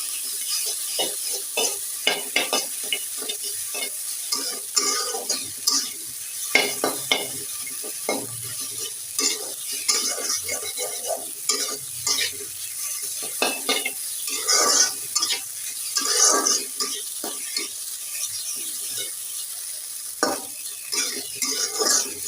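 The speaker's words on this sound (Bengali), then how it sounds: "ওকে ডিম দিয়ে লুডুস রান্না করে দিচ্ছি" Noodles with egg sizzle in a pan while a utensil stirs and scrapes, producing a steady frying hiss broken by repeated close metallic clinks and scraping strokes, with no talking.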